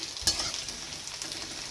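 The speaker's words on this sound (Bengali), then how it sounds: "এখানে আলুগুলো ভাজা হচ্ছে" Potatoes fry in a pan with onion and green chilli, an even, close sizzle with soft stirring movement throughout.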